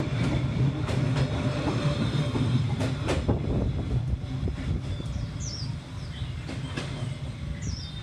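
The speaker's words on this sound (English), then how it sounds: "Take a look at how close the train comes." A train in Hanoi, Vietnam rumbles past very close, heavy low roar with rattling wheel clacks and occasional squeals, faint birds chirping in the background.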